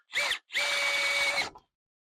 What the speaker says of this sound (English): I'm gonna go ahead and drill that out real quick